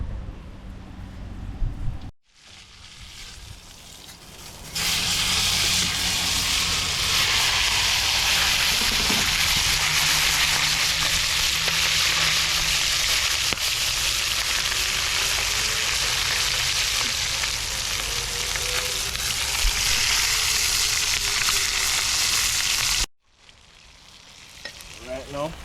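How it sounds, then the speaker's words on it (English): Red snapper fish frying in hot oil outdoors, a loud, bright, steady sizzle that starts after a short gap and runs unbroken for nearly twenty seconds before cutting out. "So put it in there and keep it on fry up."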